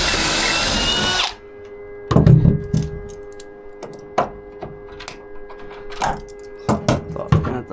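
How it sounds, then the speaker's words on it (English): A power drill whirs loudly for about a second while drilling a roughly half-inch hole for a treehouse, then stops, followed by scattered clicks, taps and knocks of handling in a quiet room. "so let's get to drilling."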